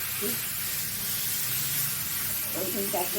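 Garlic sizzling in hot oil in a home kitchen pan, a steady close hiss that runs throughout, with a voice talking over it.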